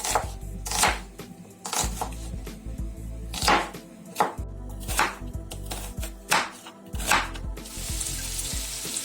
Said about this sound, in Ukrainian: Цибулю нарізаємо довільно, як вам подобається. Я буду нарізати напівкільцями.